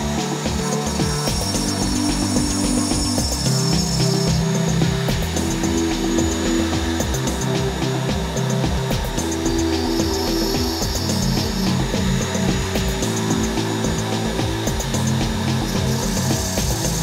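A tapered drill bit carves acrylic with a continuous close grinding whine and rhythmic rasping pulses that rise and dip in pitch as the tool moves.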